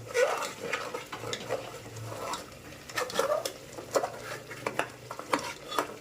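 Chicken curry with yogurt is stirred in a pan over a lowered flame, a run of scraping, clinking spoon strokes against the metal over a faint sizzle, close and fairly steady.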